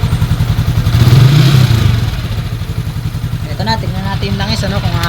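A Yamaha Sniper 155 motorcycle engine idles close by with a rapid mechanical ticking from the tensioner, a loud steady drone that swells briefly, while someone talks over it.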